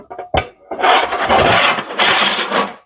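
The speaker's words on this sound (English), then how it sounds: "So we slide the front and back covers in" Fence post covers slide into place, front and back, making loud rasping scrapes, with a few short knocks first and then two long grinding slides in a row, close up and with no voices.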